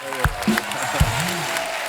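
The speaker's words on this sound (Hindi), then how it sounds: "एक जोरदार तालियां हो जाए यार" Applause from an audience plays continuously, with a few scattered shouts and voices popping up over the clapping.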